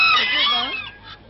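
Poultry at a show clucking and squawking loudly and close by, a brief burst of overlapping calls that fades toward the end.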